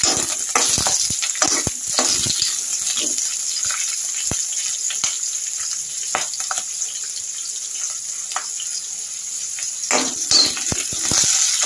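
Cumin seeds crackle and fry in hot oil in a pan for snake gourd pickle, a steady close sizzle with scattered sharp pops and occasional stirring clinks, and no talking.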